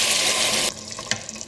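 Water pours into a pot of spiced chicken for Bangladeshi chicken pulao, a short, bright rush that cuts off sharply partway through, followed by a few faint splashes and drips.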